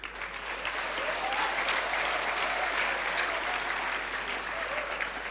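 Sustained applause from an audience at an Indonesian public lecture on land administration, a dense even patter of many hands clapping that holds steady for several seconds before easing slightly.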